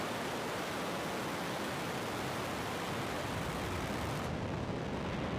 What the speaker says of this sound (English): Ignition. And liftoff of the Falcon 9.